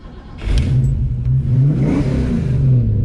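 A Ford 302 V8 car engine with GT40 upgrades, being broken in, revs up loudly and holds at a strong, throaty drone, rising and falling slightly in pitch, close by with no talking.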